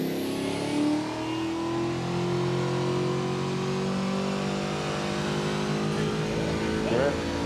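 A Ford XD with a 427 V8 on a dyno power run at a car show, a loud, sustained engine howl climbing steadily in pitch through the rev range before cutting off, with voices in the background.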